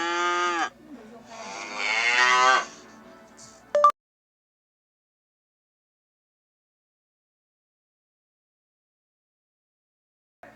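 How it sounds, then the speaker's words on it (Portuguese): A cow gives two loud mooing calls, the first short and the second long and drawn out, followed by a brief click and then silence. "A vaca faz assim."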